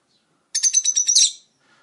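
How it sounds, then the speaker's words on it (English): Lovebirds in a cage, a yellow male and a green female, give a quick burst of bright, rapid chirps lasting about a second, close and clear against a quiet room. "there's the lovebirds."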